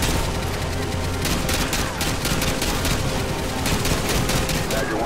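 Dense, rapid gunfire rattles without pause in a Call of Duty: Modern Warfare 2 Special Ops mission, with overlapping bursts and sharp shots packed close together at high, steady loudness.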